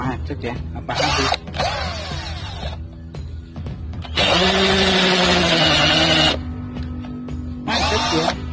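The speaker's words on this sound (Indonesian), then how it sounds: "Selanjutnya saya akan melakukan pengeboran bor pada tembok ya" Budget electric drill, priced under 400 thousand rupiah, boring into a wall in bursts: whining motor runs that start and stop with a stall between, loud and close, with someone talking in between.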